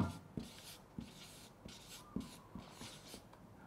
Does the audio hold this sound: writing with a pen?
yes